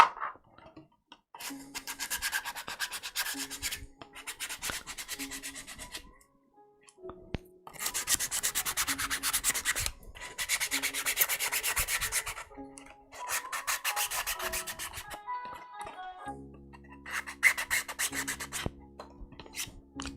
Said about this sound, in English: Should I be using my fancy Gundam sanding sticks? Probably not, but I'm going to anyways.